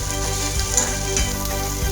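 Cumin, garlic, curry leaves, onion and green chili fry in a pan with oil, a loud, close, continuous sizzle and crackle with no one speaking.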